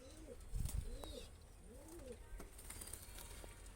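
Several Madrasi pigeons coo in a low, rolling rhythm, about three repeated cooing phrases close to the microphone, with faint chirps and a soft background hiss.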